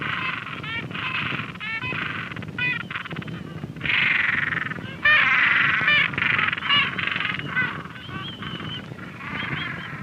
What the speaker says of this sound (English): This colony is made up of a large species of penguin known as the gentoo.